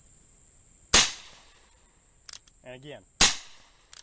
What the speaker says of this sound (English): we'll go ahead and fire one into it